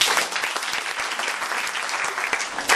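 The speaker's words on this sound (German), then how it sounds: "das ist einen großen Applaus wert" A studio audience at a talk show applauds a guest with brisk, even clapping throughout, loud and continuous with no voices over it.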